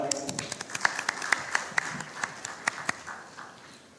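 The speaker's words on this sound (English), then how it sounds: "So big round of applause for you guys as well." Scattered audience clapping at the FICCI FRAMES 2024 inaugural session, a thin uneven patter of individual claps fading toward the end, with a voice speaking briefly at the start.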